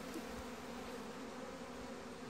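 Honeybees carrying pollen loads buzz around a hive in early spring, a steady dense drone of many insects, close and continuous without any talking.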